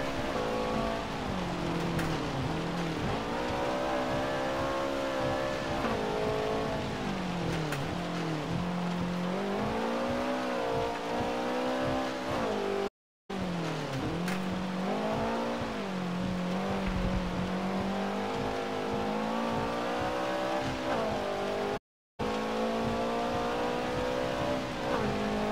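A Subaru BRZ engine races in Forza Motorsport 7, revving up and down through repeated gear changes with a steady droning tone and a brief cut in sound twice, no voices.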